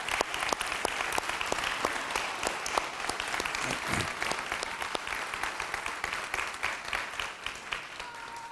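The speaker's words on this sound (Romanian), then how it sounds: "haideți să îi încurajăm un pic, să-i aplaudăm pentru slujirea lor" A church congregation claps steadily for the children after their ministry, a dense sustained applause that fills the room, with no talk over it.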